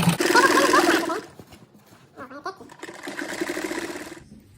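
A sewing machine runs stitching strips of fabric scraps into a patchwork rug, whirring in two bursts, loud and close, with a short quiet pause between them and someone talking briefly in the gap.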